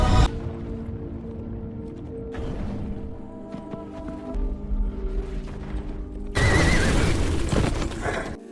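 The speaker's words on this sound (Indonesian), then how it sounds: "Milo membawa Cassia pergi secepat mungkin meninggalkan Pompei dengan menunggang kuda Fires" A horse neighs and whinnies amid creaking, rumbling commotion as riders flee Pompeii during the eruption, with a loud surge of roaring noise near the end.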